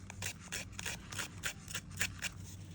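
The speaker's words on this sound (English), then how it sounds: "I've also got scissors." Scissors work over paper to make it look worn: a close, steady series of quick scraping, snipping rasps repeating roughly every quarter second, with a faint low hum beneath and no speech.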